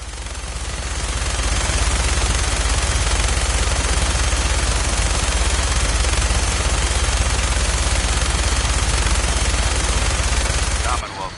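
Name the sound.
minigun firing from helicopter in video game Fallout 4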